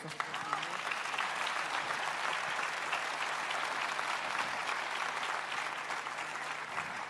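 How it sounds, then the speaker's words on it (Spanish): Audience at a live Paraguayan guarania music festival applauds the descendants of the genre's creator, a dense, steady wash of clapping filling the whole stretch at even loudness. "para quienes pido un fuerte aplauso"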